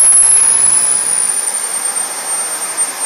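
A jet engine spooling up at about 18,000 RPM roars loud and close with a steady broadband rush and a thin high whine, easing slightly over a few seconds.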